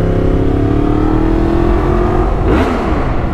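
Yamaha MT-10 motorcycle engine revs inside a tunnel, a loud sustained drone whose pitch climbs steadily before a sharp blip near the end, echoing off the walls with no talk.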